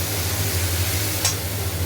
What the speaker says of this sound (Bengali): এবার এটা ভালো করে এর সাথে কষাবো।